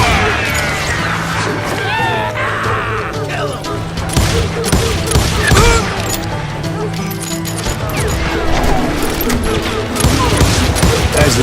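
Rapid bursts of gunfire crackle in an Xbox shooter game set in the Old West around Lincoln, New Mexico. The dense, continuous volleys sound loud and close, with voices shouting over the shooting.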